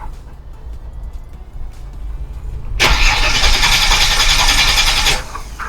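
A Commodore VY with a naturally aspirated 3.8 litre V6, unused for seven years, cranks over after a low engine hum: a loud, steady whirring starter drone for about two seconds that then cuts off, close to the car.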